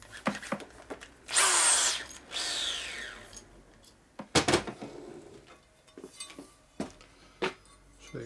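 A power drill whirs in a short loud burst, then spins again more softly, with sharp clinks and knocks scattered around it, drilling a Harley-Davidson knucklehead motorcycle engine.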